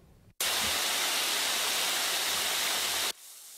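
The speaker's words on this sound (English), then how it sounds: "came across the discovery of water, lots of it, gushing from a broken water pipe" Water gushes from a broken water pipe in a forested area in central Oahu, a loud, steady, hissing rush that starts abruptly and cuts off after about three seconds.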